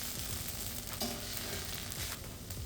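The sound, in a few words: keto pasta warming in a pan on the stove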